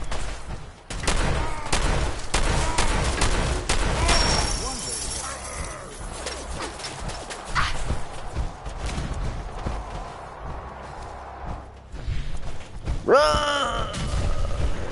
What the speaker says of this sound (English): Fucking minigun.